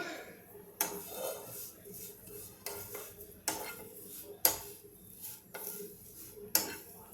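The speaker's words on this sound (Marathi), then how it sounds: "बस आता हा सगळा मसाला मी चांगला भाजून घेणार आहे" Sambar masala spices and curry leaves dry-roasting in a pan, with a metal spoon or spatula repeatedly scraping and stirring against the pan in sharp clattering bursts over a soft, low background hiss.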